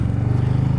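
A motorcycle engine throbs steadily as the throttle opens and the clutch engages to pull away in first gear, a loud, close, low rhythmic rumble that lasts less than a second.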